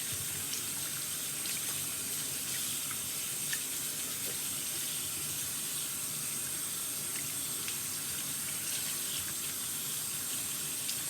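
Steady running water from a faucet rinsing conditioner out of a reborn toddler doll's vinyl-backed hair, a constant close splashing stream with no talk.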